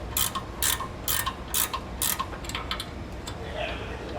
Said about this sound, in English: we're going to grab our 15mm wrench and get those out of there